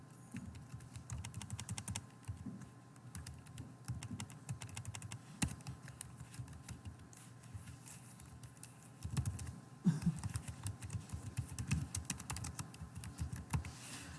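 Steady typing of code on a computer keyboard, with quiet, rapid key clicks running throughout in irregular bursts and a few louder taps, heard close up with no talking.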